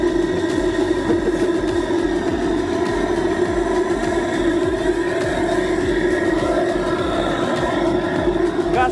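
A steam-powered motorcycle engine chugs in a dense, continuous mechanical churn at close range, steady in level throughout.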